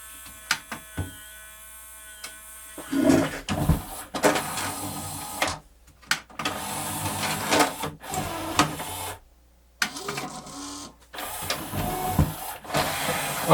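A small motor inside a Pioneer CLD-V870 laserdisc player whirs and buzzes in uneven bursts with brief silent gaps and mechanical clicks, close and fairly loud, with no talk.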